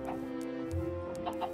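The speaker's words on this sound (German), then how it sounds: "ich habe hier so drei Hühner" Three chickens cluck in a Minecraft game, soft and close together, in a short run of clucks over a quiet humming background.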